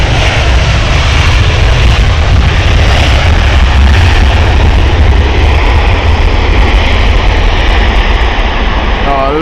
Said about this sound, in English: Oh, I love the sound of those 767 engines.